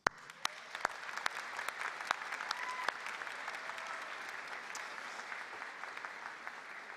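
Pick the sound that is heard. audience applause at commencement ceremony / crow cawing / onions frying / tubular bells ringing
audience applause at commencement ceremony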